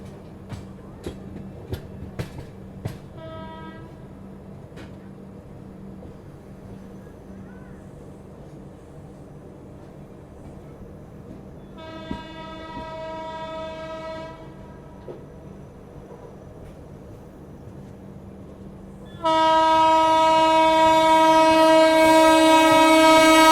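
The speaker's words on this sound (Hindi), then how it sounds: "Andaman express overtaking Bengaluru Rajdhani." Indian Railways Andaman Express overtaking the Bangalore Rajdhani, heard from aboard: a low steady train rumble, a few sharp clicks early, a horn-like harmonic tone midway, then a loud sustained horn blast closing the passage.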